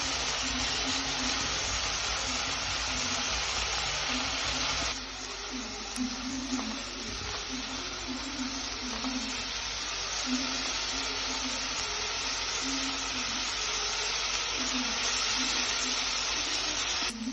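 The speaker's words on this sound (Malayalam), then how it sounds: "പച്ചമുളക് ഒന്ന് വഴറ്റിയെടുക്കാം." Green chillies and tomato sautéing in a pan for Maggi noodles, a steady broadband sizzle and frying crackle running throughout, fairly loud and close, with faint occasional tones underneath.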